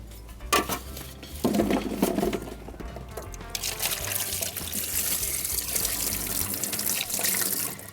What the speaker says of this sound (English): I have to rinse it first before blending